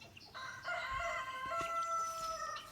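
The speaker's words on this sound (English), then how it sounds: "Roosters in the background" A rooster crows once in a long, drawn-out call, fairly clear against a quiet outdoor background.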